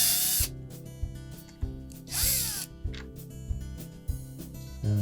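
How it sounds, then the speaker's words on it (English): Small hex head screws being backed out of a Whirlpool washer's water inlet valve with a power driver or ratchet, heard as several short whirring and clicking bursts with pauses between them, close up and with no talk. "there are typically a couple of 1/4-inch hex head screws that secure that valve to the main top. We're just going to remove both of those."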